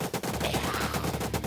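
Rapid automatic gunfire from a spraying weapon in the Dreams zombie-hunting horror game on PS4/PS5, a dense, continuous burst of shots lasting the whole moment at steady loudness.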